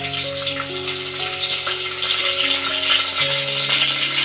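Crushed ginger and garlic with curry leaves dropped into hot oil in a pan, a loud continuous sizzle and crackle with faint rattling as it fries.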